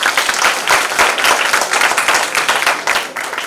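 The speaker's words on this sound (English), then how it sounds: "Give yourself a round of applause" An audience at a corporate HR event claps together in dense, steady applause, close and fairly loud throughout, with no voices over it.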